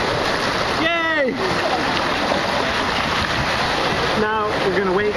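Water rushes and splashes steadily around riders at the end of the green tube water slide at the Ocean Breeze water park, with brief shouts and whoops rising over the loud, continuous wash.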